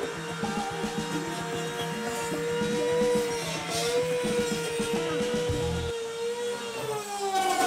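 CNC machine running a contour pass while cutting a climbing hold, a steady loud whirring tone with shifting pitch and low rumbling texture, continuous throughout and easing toward the end.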